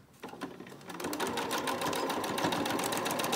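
A sewing machine stitches the edge of a homemade fabric face mask, starting with a few hesitant stitches, then settling into a fast, steady mechanical chatter that runs on alone.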